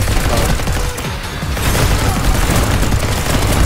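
Rapid, dense gunfire from the video game Neon White blasts continuously, loud and close with heavy booming impacts layered over one another.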